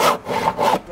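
A hand saw cuts a timber rafter in strokes, with two strong rasping passes and the start of a third, close by with no talk.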